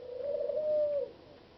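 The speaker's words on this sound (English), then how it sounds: "Those are my birds chirping, by the way." Pet birds calling indoors, with a single clear, smooth tonal coo lasting about a second at moderate volume over quiet background noise.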